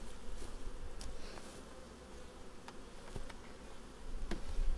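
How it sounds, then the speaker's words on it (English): Bees buzz steadily in front of a hive, a dense close drone of many insects flying in and out, with a few louder passes sweeping by near the ear. "There's either a colony in here, or these bees going in and out are just robbing it."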